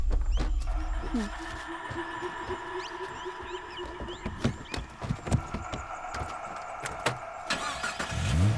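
Car engine starting and idling, with clicks, a cranking rumble and door or handling knocks, fairly close and without talk over it.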